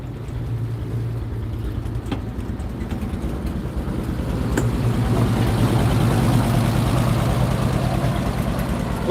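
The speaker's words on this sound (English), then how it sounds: "Is that another big 6-cylinder Plymouth engine there, Timmer?" A Plymouth six-cylinder gas engine on a small rail locomotive runs steadily with a low throbbing rumble, loud and close, swelling slightly toward the end over wind noise.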